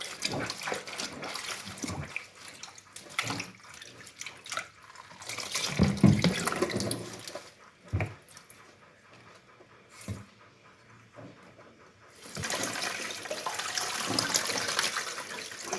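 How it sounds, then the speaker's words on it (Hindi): Tap water runs and splashes as clothes are hand-washed in a sink or tub, with scrubbing and sloshing bursts, a louder gush of flowing water near the end, and occasional brief thumps close by. "मैं धोने लगी हूँ कपड़े।"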